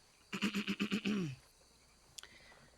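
A horse in the RedM roleplay video game gives one loud whinny made of several rapid pulsing bursts that trail off into a falling tail. A faint click follows in an otherwise quiet background.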